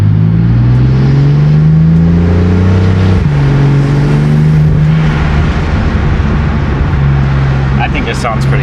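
Car fitted with a full active Autowerke exhaust, heard from inside the cabin as a loud, steady deep drone with rising and falling revs, one brief gear-change dip, sustained throughout.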